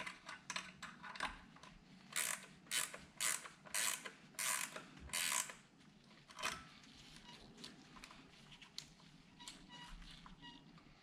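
A clamp being tightened on a Freshbreeze Monster paramotor silencer during a repack, a close, quiet run of ratcheting clicks and creaky metal turns that comes in bursts and then eases off, with no talk.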